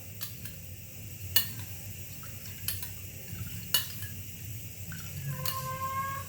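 A rose water beauty product being mixed in a bowl, with a spoon clinking and scraping against the bowl in a few sharp taps over a low steady background hum, no talking.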